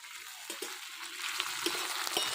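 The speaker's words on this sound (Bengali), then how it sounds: "পেঁয়াজটা আর একটু ভাজা হোক, আদা আর রসুন বাটা দিয়ে দিলাম।" Onion fries in oil with ginger and garlic paste in a Bengali village kitchen, giving a steady close sizzle with a few soft stirring knocks and no talk.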